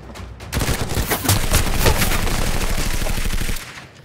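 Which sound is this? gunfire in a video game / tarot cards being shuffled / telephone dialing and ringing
gunfire in a video game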